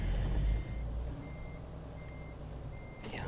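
Reversing beeps of a Renault Premium truck in Euro Truck Simulator 2, a regular series of electronic tones over a low engine rumble, steady and moderately loud with no talking.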